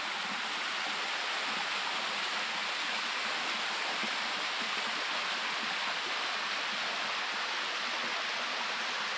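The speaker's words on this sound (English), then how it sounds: "So here's the bottom of the waterfall." Waterfall at Lake Bensis, heard from its base as a loud, steady broadband rush of falling water that fills the whole scene without a break, with no voices.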